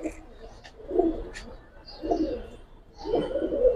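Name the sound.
Giribaz pigeons cooing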